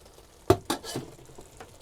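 A spoon stirring caramelised onion chutney into a sausage casserole in a pot, three short wet scraping strokes followed by soft faint bubbling.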